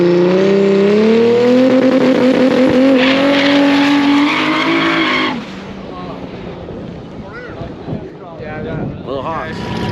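Race car at a drag strip revving up hard with rising engine pitch, then cutting off abruptly midway, followed by quieter wind-buffeted track noise and fainter engine sounds.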